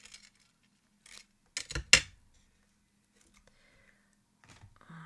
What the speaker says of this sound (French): On va faire tourner un petit peu mes ciseaux.